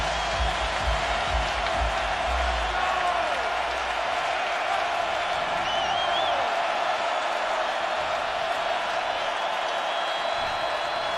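Dense stadium crowd roar fills a college football game between BYU and Wisconsin, a steady, loud wash of cheering and applause that holds at a constant level throughout with no break.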